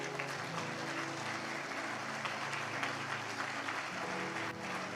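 A church congregation applauds steadily in a continuous, fairly quiet wash of clapping, while a low sustained musical drone hums underneath.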